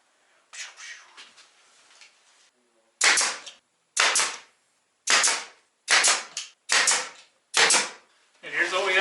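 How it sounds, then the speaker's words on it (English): A nail gun firing nails through a border into plywood for reclaimed wood wall art, seven sharp close cracks in an uneven rhythm, the first one fainter, with short gaps between shots. "drive a nail in, going through the border into the plywood, holding it there"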